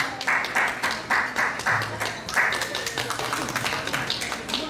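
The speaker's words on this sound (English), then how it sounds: "let's put our hands together for our rumba couple" Scattered, thin clapping from an audience at a rumba dance showcase, a few pairs of hands patting in an uneven rhythm over a babble of voices nearby.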